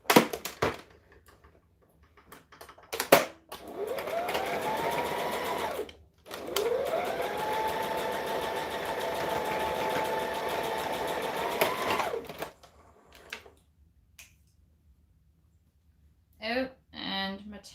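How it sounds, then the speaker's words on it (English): A sewing machine stitching a fabric scrunchie shut with thread, running in two long steady whirring bursts separated by a short pause, with a few clicks and handling noises around them. "I can actually probably stitch this one shut with this thread."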